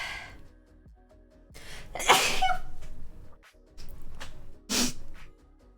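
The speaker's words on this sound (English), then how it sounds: "Oh, I need to sneeze." Two close, forceful sneezes, the first a loud burst and the second shorter, with faint background hum.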